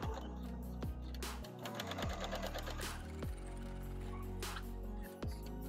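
Domestic sewing machine stitching a fabric seam for a bicycle bag, a steady motorized whir running continuously with brief pauses and thumps as the stitching starts and stops, close and fairly loud with no talk.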